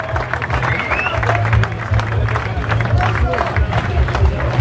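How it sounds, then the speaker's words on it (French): An outdoor crowd applauds volunteers before a trail race at Grand Brassac, scattered clapping mixed with crowd chatter, cheering and a public-address voice over low rumble. "Tout ça encore, les applaudissements."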